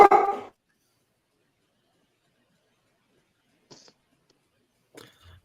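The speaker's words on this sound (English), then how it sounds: "dog cameo time" A dog gives one loud close bark at the start, then two faint brief yips or whimpers after a long silence.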